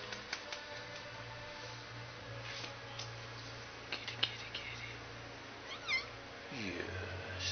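A young gray tabby cat meows softly a few times indoors, faint and fairly distant over a steady low hum, with a person calling to it.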